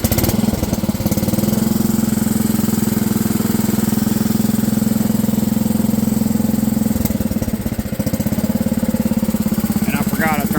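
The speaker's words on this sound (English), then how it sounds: "The switch ain't turning the mower off." A lawn mower engine runs loud and steady at close range with an even, rapid chugging that will not shut off at the switch; a voice briefly cuts in near the end.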